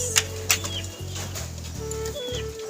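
Birds flapping their wings in a few short bursts as they take off, over a low steady hum, with soft cooing nearby.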